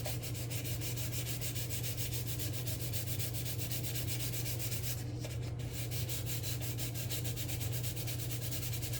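400-grit sandpaper rubs over filler on a 1/535 scale model of the battleship USS Iowa, giving a quiet, rapid back-and-forth scratching that continues in an even rhythm.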